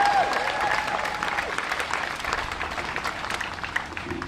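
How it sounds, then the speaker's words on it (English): A rally crowd gathered outdoors in support of a school board figure applauds in a sustained, dense wash of clapping, with a few faint cheers and voices underneath. "So give yourselves a round of applause."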